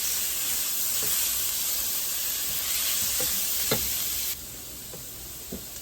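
A pan of eggs and cheese sizzles steadily with a soft hiss and occasional light ticks and clinks, close up, the sizzle dropping to a quieter level near the end.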